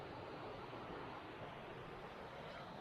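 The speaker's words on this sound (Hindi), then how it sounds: "पानी की आवाज़ तेज़ होती जा रही है, तो मतलब हम वाटरफॉल के पास जाते जा रहे हैं" The rushing water of Chhoie Waterfall carries through the Tirthan forest on a trek, a steady broadband roar, moderately distant and unbroken, with no talking.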